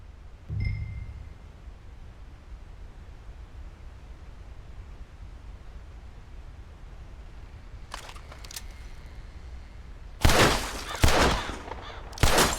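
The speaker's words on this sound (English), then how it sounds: "I'll shoot a few more this time." At target practice in Red Dead Redemption 2, a low thump opens over steady hiss and ambient noise. Later come a couple of faint distant pops and then several loud close rifle shots in quick succession near the end.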